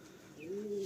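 Kalsira pigeons coo in a low, steady tone that swells near the end of a short burst, close and fairly quiet, with no voices.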